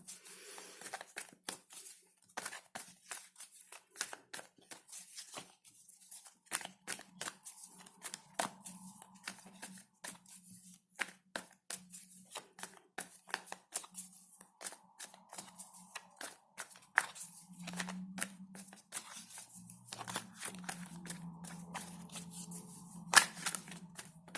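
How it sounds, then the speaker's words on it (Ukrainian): Large tarot-style cards shuffled over and over, a steady stream of crisp flicks and papery slaps with short pauses between passes, close by and fairly quiet. "великі карти не дуже удобно мені тусувати"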